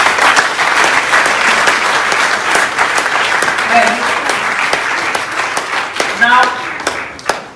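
Sustained applause and clapping from an audience congratulating grant beneficiaries at the official launch of an agribusiness matching grants programme, loud and continuous, with a brief spoken phrase at the start.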